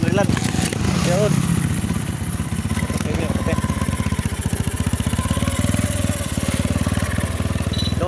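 Motorcycle engine running close by during a ride, a steady rapid putter under continuous noise, with people talking over it.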